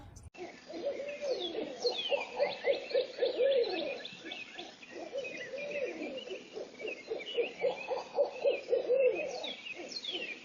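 Barred owls hoot repeatedly in rhythmic low calls at moderate distance during mating season, with insects or frogs chirping steadily in the background and no voices.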